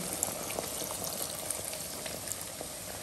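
Squid and potatoes fry in a pan after cooking wine is added, giving a steady, even sizzle and bubbling crackle with no talk.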